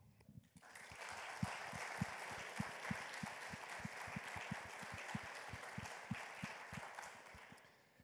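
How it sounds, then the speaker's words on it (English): A conference audience at a general assembly gives the team warm applause: steady, moderately distant clapping that swells within the first second, holds evenly for several seconds and tapers off at the end, with no talking. "So please give these people a warm applause."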